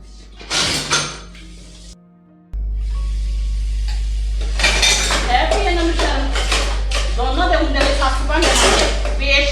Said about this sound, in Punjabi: ਭਾਂਡੇ ਮੈਂ ਆਪੇ ਮਾਂਜ ਲੂੰਗੀ